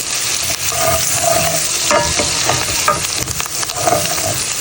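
Butter, onions, garlic, thyme and rosemary sizzle steadily in a pan while being stirred, with scraping and clinking of the utensil over the continuous frying hiss.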